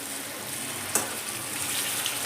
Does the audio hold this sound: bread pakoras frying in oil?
yes